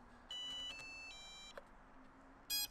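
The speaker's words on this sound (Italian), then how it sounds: "e lui bip se perde il segnale radio" A series of electronic beeps and tonal chirps at shifting pitches from a drone after losing its radio signal, fairly faint, ending with a sharper burst of tones.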